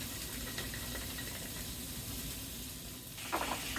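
Pork chops fry in bacon grease in a pan, giving a steady, soft sizzle and hiss that runs throughout, with a brighter burst of spitting near the end.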